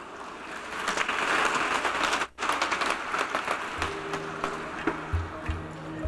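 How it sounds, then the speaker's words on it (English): A yoga day audience in Manila applauds, a steady patter of many hands clapping at moderate distance that breaks briefly, resumes and thins out toward the end. "Let's give her one more round of applause."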